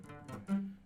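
Open, unmuted electric guitar strings ringing after alternate picking, a short buzzy burst with a low sustained tone swelling near the end, played alone at moderate volume.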